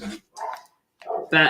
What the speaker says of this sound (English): apologies for the dogs who are barking outside